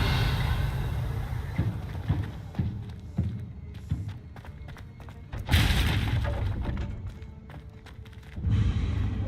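Revelio spell cast in Hogwarts Legacy, a soft shimmering magical sweep over a busy game ambience, with scattered thumps, taps and footsteps and a brighter burst midway, moderately loud throughout.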